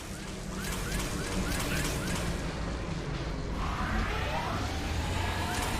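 Howling storm wind roars steadily around a ship in the video game Mass Effect 2, a dense, loud, unbroken rush of noise with rising whooshing gusts near the end.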